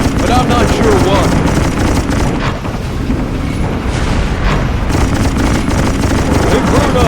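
Depth charges explode during Naval Assault: The Killing Tide on Xbox 360, a loud, continuous rumbling barrage of heavy booms that fills the whole stretch, with voices mixed in.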